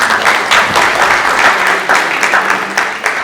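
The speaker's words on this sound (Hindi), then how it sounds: "तालियां इसके लिए भी जोरदार हो" Audience at a book launch event for "Hum aur Hamari Nafsiyati Sehat" clapping loudly and continuously, a dense close burst of applause that holds steady before easing slightly at the end.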